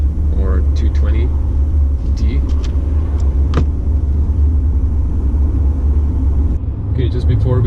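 Steady, loud low rumble of a 2019 facelift Mercedes C 220d diesel engine on Croatian roads, heard from inside the cabin with a constant droning hum and brief faint voice fragments.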